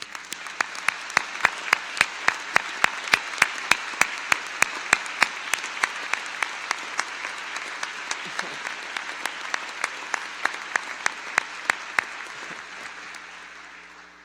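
An audience applauds in a chapel at a dean's installation ceremony, honoring guests asked to stand. The sustained clapping fills the space steadily for over ten seconds, dotted with a few sharp nearer claps, then slowly tapers.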